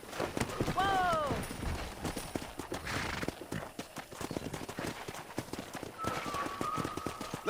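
Galloping horse hooves in the Red Dead Redemption western video game, rapid close clip-clop beats with a brief whinny and voices calling out over them.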